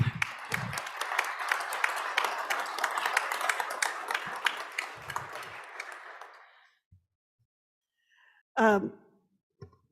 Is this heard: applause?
yes